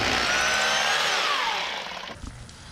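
Close whine of a power drill driving a countersunk screw into fence wood, a loud rising-pitched whir that winds down after about two seconds, ending in a few soft knocks.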